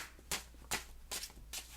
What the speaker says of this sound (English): just going to shuffle to help me